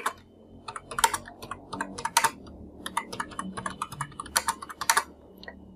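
Typing on a computer keyboard: a quick, uneven run of crisp key clicks with occasional bursts of faster strokes, close and alone.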